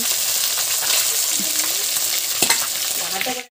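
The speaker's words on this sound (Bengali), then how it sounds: "এদিকে হচ্ছে মাছ ভাজা" Fish fry in hot oil in a wok, a steady loud sizzle and crackle with occasional stirring and scraping, close by, ending abruptly.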